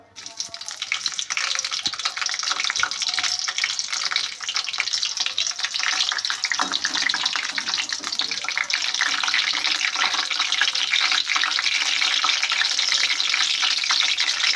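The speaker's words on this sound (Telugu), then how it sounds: "Oil heat ఎక్కిందండి. పచ్చిమిర్చి వేద్దాం." Green chilies hitting hot oil in a pan give a loud, steady, crackling sizzle that fills the whole stretch close by, with no voice over it.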